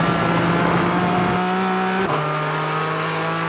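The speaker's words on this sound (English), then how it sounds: "finally wide open throttle again through that apex curb and towards the exit" A race car at Road Atlanta holds wide open throttle through an apex curb, its engine a loud, steady high-pitched drone that briefly dips and shifts tone midway before continuing strongly.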